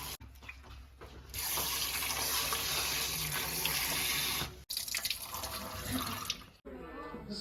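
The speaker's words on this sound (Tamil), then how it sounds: "இந்த மஞ்சள் போட்டிருக்கேன் எதுக்கு அலசறதுக்கு" Mutton pieces rinsed in turmeric water for biryani, with a steady tap stream running and water splashing in a sink, loud and continuous, briefly broken by a couple of short pauses.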